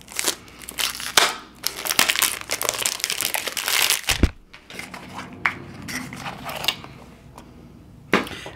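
Cardboard and plastic wrapping are torn off a boxed Azzaro Chrome Legend fragrance, loud close crinkling and ripping in repeated bursts with a sharp snap partway through.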